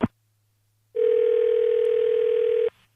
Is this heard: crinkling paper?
no